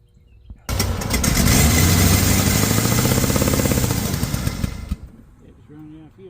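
1985 Dodge engine suddenly roaring to life, then running loud and rough before sputtering and cutting out as it runs out of fuel; faint voices follow afterward.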